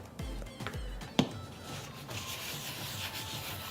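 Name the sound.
rubbing oil over a pan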